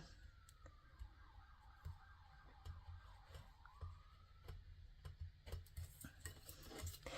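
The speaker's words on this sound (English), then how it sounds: "we got a lot of sirens today." A distant emergency siren wails up and down in repeating sweeps, faint beneath ticking and clicking noises nearby.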